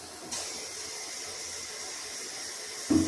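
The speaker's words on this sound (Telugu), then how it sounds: "ఇంకొన్ని వాటర్ యాడ్ చేద్దాం" Water poured into a pot of pepper rasam, a soft steady splashing pour that starts abruptly and runs for a few seconds at modest volume.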